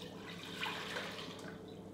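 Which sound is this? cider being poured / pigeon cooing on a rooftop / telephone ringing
cider being poured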